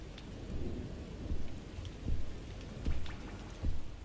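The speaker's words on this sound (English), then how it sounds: "It's raining." Steady rain with several low rumbles of thunder rolling in at regular intervals during a stormy scene in the video game Jazzpunk, close and fairly loud with no talk.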